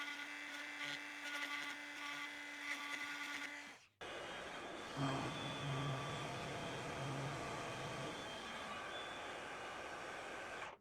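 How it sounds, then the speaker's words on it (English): A diamond burr in a high-speed rotary tool grinding an end mill tooth, a thin continuous whine with a short break and then a harsher, denser grinding tone, quiet and close. "Let's try just grinding away that bit with a diamond burr."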